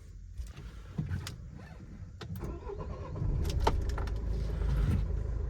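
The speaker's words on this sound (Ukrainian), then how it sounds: "давайте запустимо двигун, покажемо, як він працює" A 2004 Opel Vivaro Maxi van with a 1.9 dCi diesel engine is started: keys jingle, the starter cranks briefly, then the engine catches and settles into a steady idle, recorded fairly close.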